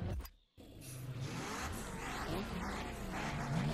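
Honda NSX engine in The Crew Motorfest, a steady mid-pitched drone that holds loud and continuous after a brief dropout near the start, with gear and rev shifts rising and falling underneath.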